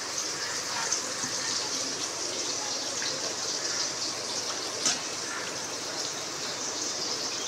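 Water washes over waterlily stems in a steady broadband rush, close and continuous, with a brief splash near the five-second mark.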